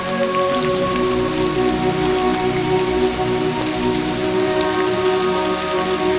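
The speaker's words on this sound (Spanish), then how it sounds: "Bueno, pues al final nos ha pillado la lluvia." Rain pours down on a hiking trail through the Desfiladero de las Xanas gorge in Asturias, a dense, loud, unbroken patter and hiss filling the whole stretch with no voices.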